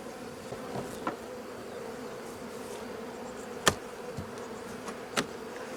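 Honey bees buzzing around open beehives while the hives are being inspected for queen cells; a soft, steady insect hum with occasional louder buzzes as bees fly close past.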